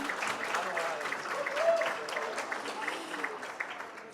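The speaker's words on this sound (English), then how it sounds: "applaud, applaud" Applause at the Texas Trees Foundation 40th anniversary celebration, a moderate, continuous patter of clapping from a gathered crowd, with voices faintly mixed in.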